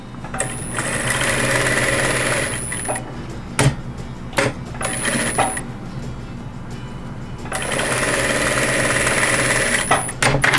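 Sewing machine stitching a patchwork block seam, running in three long steady bursts separated by short pauses and a few sharp clicks, loud and close with no talking.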